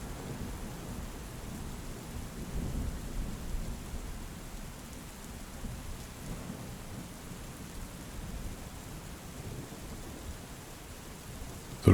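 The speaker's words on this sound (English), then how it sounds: "The rain fell heavily still," Heavy rain pours steadily in a dense, unbroken hiss, with low rolling thunder rumbling underneath throughout.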